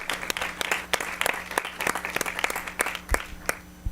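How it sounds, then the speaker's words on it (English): Applause from an audience at a school board meeting, many hands clapping in a brisk, even patter with a few sharp louder claps near the end, a low steady hum running underneath. "please let's give her a round of applause"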